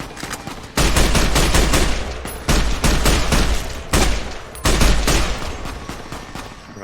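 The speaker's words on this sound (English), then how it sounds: "I think we were getting shot from over there." Rapid gunfire bursts in Fallout: New Vegas, four loud sustained volleys of automatic shots separated by short pauses, close and harsh with no talk.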